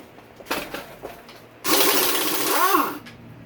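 Motor mount bolts coming off a Honda CRF250R dirt bike engine: a few light clicks and taps, then a loud, steady mechanical whirring burst lasting about a second and a half, ending with a brief rising whine.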